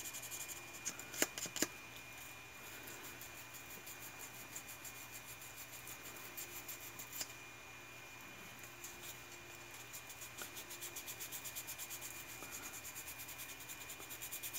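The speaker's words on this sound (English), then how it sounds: "Sanding, sanding, sanding, sanding." A wooden wand prop is sanded by hand, soft rhythmic rubbing strokes, close and quiet, with a few sharper scratches early on and steady repeated passes toward the end.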